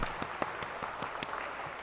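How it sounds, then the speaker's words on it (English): A congregation claps for its volunteer pickup band at a Shabbat evening service, giving scattered, fairly faint individual claps spread across a short stretch rather than a dense ovation. "Can we have a round of applause for our musicians?"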